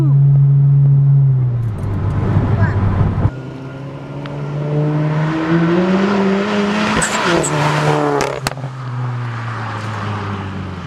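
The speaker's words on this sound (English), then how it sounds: "You can definitely feel the tires start to break when he gets on it too." A 2016 VW GTI, front-wheel drive, accelerates hard with a loud, rising engine note, tires breaking loose and squealing, and exhaust popping, with shifts audible as the pitch drops and climbs again.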